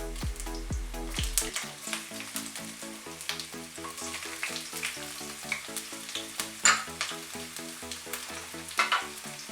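Whole spices and chopped ginger crackle and sizzle in hot frying oil, a dense fizzing hiss with scattered pops, close and steady, while soft music plays underneath.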